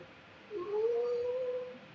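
A cat in a front yard lets out one long drawn-out yowl that rises then holds steady for over a second, moderately close against a quiet background.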